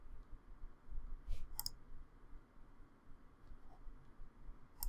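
A computer mouse clicks the import button: a couple of sharp, faint clicks stand out against a quiet background, with a final click at the very end.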